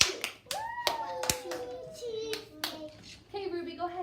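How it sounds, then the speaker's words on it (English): Children in a classroom clap twice in unison, two sharp claps over a teacher's and kids' voices, with chatter continuing afterward. "It's 2 claps, so we go 1, 2."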